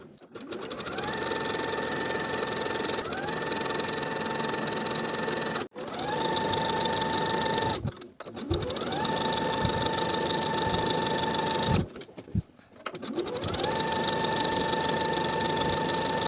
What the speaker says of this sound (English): Sew or serge both side seams and both shoulder seams with a 1/4 inch seam allowance